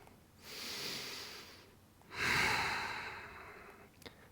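Two slow, audible breaths during a Tibetan Rites morning exercise routine, a softer one followed by a louder, stronger exhale, close up with no talking.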